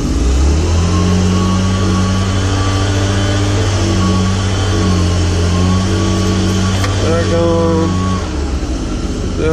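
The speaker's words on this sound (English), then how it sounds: "Turn the ignition on." A Kubota RTV1100 diesel utility vehicle cranks and fires, then settles into a loud, steady running rumble nearby, with its engine note briefly rising near the end.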